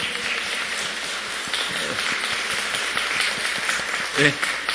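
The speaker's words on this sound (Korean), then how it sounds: "박수로." A congregation claps during a Korean church worship service as flowers are presented to an honored deaconess. The dense, steady applause lasts the whole stretch and sits fairly close, with voices mixed in.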